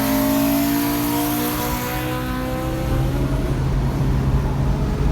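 Honda Civic Si engine revving hard, a loud sustained rising-and-holding engine note with harmonic whine, bouncing near the limiter with rough low rumble for about five seconds, no talking.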